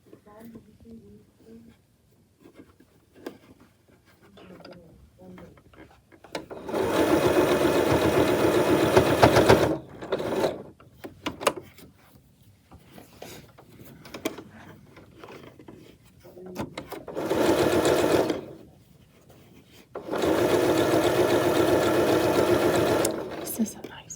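A sewing machine stitches binding onto a quilt in three bursts of steady, close, fairly loud whirring, separated by quieter stretches of handling noise and soft murmured talk.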